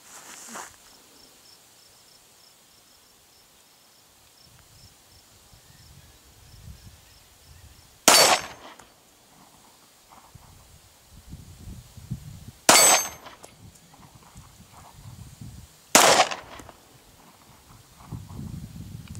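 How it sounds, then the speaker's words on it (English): Three sharp, loud Glock pistol gunshots ring out at a shooting range, a few seconds apart, with quiet shuffling and faint background noise between them. "first shots with the gun as well"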